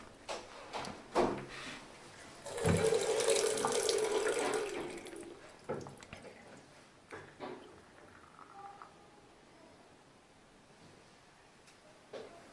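Water gushing from an opened tap over a bathtub during installation of a storage water heater, a steady loud rush for a couple of seconds that then cuts off, followed by scattered clanks and quieter trickles.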